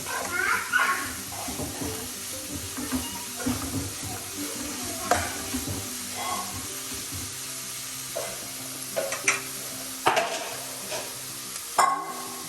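Shredded violet cabbage for a Kerala thoran is stirred in a pan, with scraping and soft sizzling sounding in irregular bursts while a voice talks over the cooking.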